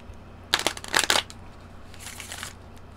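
A deck of tarot cards is shuffled close by, a couple of quick riffling bursts followed by a softer, longer shuffle, with no talk.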